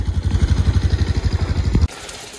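A new motorcycle's engine runs close by in a steady, pulsing idle on a mountain trail, its rhythmic throb continuing for nearly two seconds before cutting off abruptly into quiet background.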